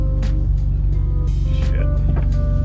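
A BMW E46 engine idles steadily right after being started, a continuous close low rumble with a few faint clicks and rattles over it and no talking.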